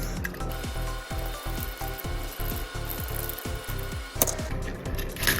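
A small screwdriver backs screws out of a 3.5-inch Shoogun FPV drone frame, giving a steady run of close, rapid ratcheting clicks and creaks, with a sharper clack near the end.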